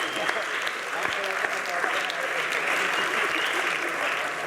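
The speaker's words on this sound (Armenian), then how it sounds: "Եկեք ծափարենք։" An audience breaks into sustained applause during an Armenian comedy show, the dense clapping filling the space steadily from start to finish with a faint murmur of voices underneath.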